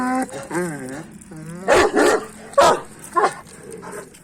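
A Central Black Sea mountain shepherd dog puppy barks and yips several times close by, with whining, rising and falling whimpers in between.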